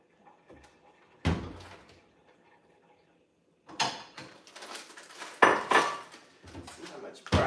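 Broccoli being tipped into a pan for a quick stir fry, with scattered knocks, clatters and scraping of pan and utensils in bursts separated by a quiet stretch.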